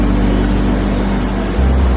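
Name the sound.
generator (genset) engine starting up and running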